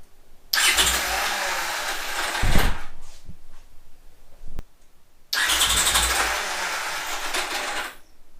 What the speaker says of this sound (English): And from here, we can crank the bike.